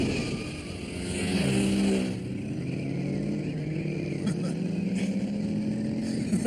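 Motorcycle engines roar and rev together during a high-speed race, a steady loud drone that swells and pitches with acceleration, with music or other sounds layered underneath.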